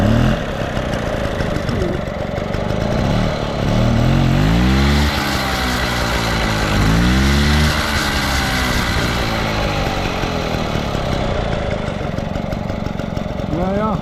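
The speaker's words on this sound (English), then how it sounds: "the engine will swing backwards when you rev it up" Small engine with a belt drive, spring-mounted so it swings back as it revs, running at a steady idle and then rising twice into loud, brief revs before settling back, heard close up with no voices.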